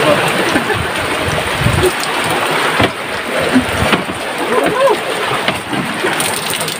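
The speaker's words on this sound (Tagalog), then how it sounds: "Kitang-kita nyo naman po, pati ang paligid talagang maulan." Rain falling at sea on a fishing boat in the Pacific, a dense steady hiss with wind and water noise, under occasional talk.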